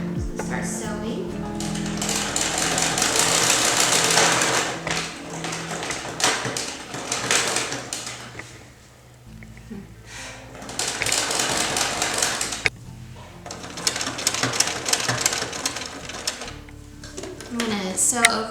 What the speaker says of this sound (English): I'm going to sew over this twine now